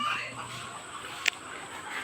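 Faint chicken clucking in the background, with a single short sharp click partway through.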